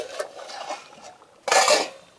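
A lid goes onto a pot of simmering beef, with a few light metal clinks followed by a louder, longer clatter near the end, close by with no talking.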